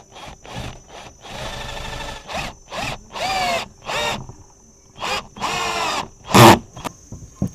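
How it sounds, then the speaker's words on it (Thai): A Bonya cordless drill driving roof screws, its motor whirring in repeated short bursts and longer runs as each screw is driven, close and loud, ending with a sharper hit near the end. "อ่ะมาลองดู เจ้าน็อตขันหลังคากันบ้างนะครับ"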